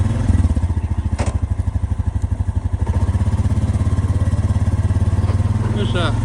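Engine of a 2020 Honda Rubicon Deluxe ATV driving through Kentucky woods, a steady close, loud pulsing putter that chugs on without a break while the rider talks over it.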